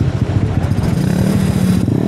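A motorcycle engine runs close and loud with a steady, throbbing low putter and slight revving, heard at night on the road.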